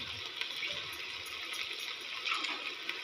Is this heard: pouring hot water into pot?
yes